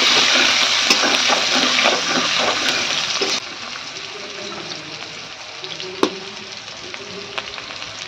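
Chopped onions fry in a pan, browning in steady, close broadband sizzle that is loud for the first three seconds, then drops to a quieter bubbling hiss with a brief clink near the six-second mark.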